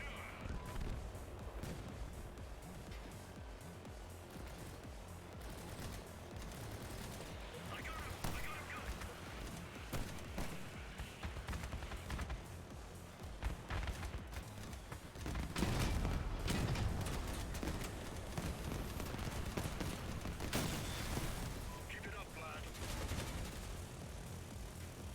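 Missiles fire in the vehicle combat game Crossout, mixed with dense bursts of gunfire and heavy blasts that run loud and nearly nonstop, growing stronger in the second half.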